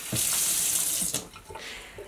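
Running tap water in a tiny house, a steady close hiss of flowing water from a faucet that cuts back after about a second, followed by softer splashing.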